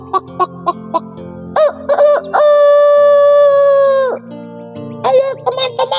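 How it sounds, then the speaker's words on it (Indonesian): A rooster crows loudly and close by, one long drawn-out cock-a-doodle-doo preceded and followed by short clucking notes. "mendengar suara kokokan ayam yang sangat keras"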